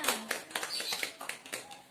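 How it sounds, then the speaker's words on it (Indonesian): A classroom of students clapping hands together at a teacher's prompt, a light, scattered patter of claps with a few sharper taps, fairly quiet and loose in rhythm. "Iya, alhamdulillah, tepuk tangan semuanya."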